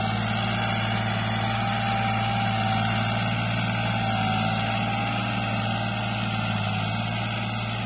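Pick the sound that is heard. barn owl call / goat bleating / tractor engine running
tractor engine running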